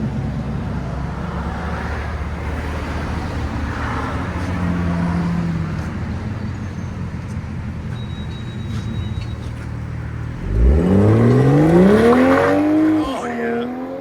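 A Toyota Supra GR with an aftermarket exhaust accelerating hard, a low rumble swelling into a loud rising engine note as it pulls away late on, with a voice talking over it.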